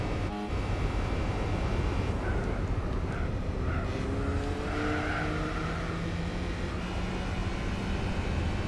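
Renault and Peugeot race cars in Gran Turismo 4, including a modified 206, drone continuously with rising and falling engine tones that overlap as several cars pass, loud and steady without pause or voices.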